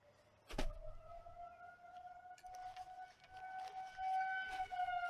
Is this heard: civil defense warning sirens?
yes